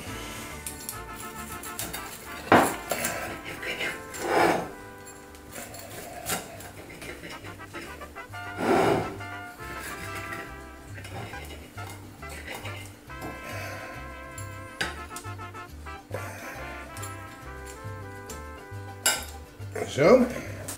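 Crisp whole-wheat tortilla quesadillas being cut and handled on a plate, giving scattered knife-on-plate clinks and crunchy cracks near and clear, with light kitchen clatter between them and no speech.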